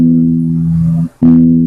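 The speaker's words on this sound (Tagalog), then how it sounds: "So ito yung tunog na standard sa string number 6." A guitar's low sixth string sounds its standard-tuning reference note as a loud, steady, sustained tone, cut off briefly and then struck again.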